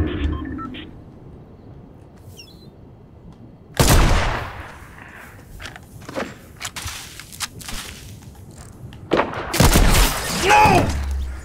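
Sniper rifle shots ring out in the video game Fortnite, with one sharp loud blast followed by scattered impacts and a second burst of firing, all close and punchy.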